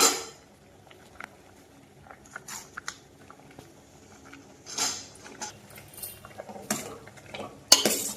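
Green chillies being stirred into tamarind pulp in a pot for temple-style pulihora, heard as scattered spoon scrapes and clinks against metal with a few louder knocks, close and otherwise quiet.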